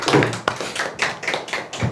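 A small audience claps in scattered, uneven bursts at a Korean sales-training talk, with some sharp taps and soft thuds standing out close by.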